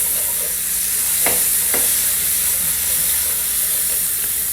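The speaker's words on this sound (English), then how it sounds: "So I'm going to saute our green pepper and our celery pieces here for about 2 or 3 minutes." Green pepper and celery pieces sauté in a pan with a loud, even sizzle and hiss. Two short spoon or spatula strokes sound early on, with no talking.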